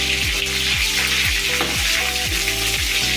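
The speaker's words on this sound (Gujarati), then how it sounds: "તો આ જીરું નાખી દીધું, આ બટર નાખશું થોડુંક" Cumin seeds and a little butter sizzle in hot oil while tempering a Gujarati garlic and cashew curry, a steady loud crackling fry with repeated soft scraping strokes and no talk.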